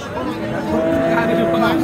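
A cow with a calf lets out a low, drawn-out moo close by at a livestock market, with background chatter from people nearby.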